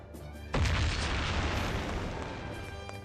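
A grenade explodes in the Mafia video game, a sudden loud boom after a brief quiet, followed by a rumbling roar that decays slowly over the next few seconds.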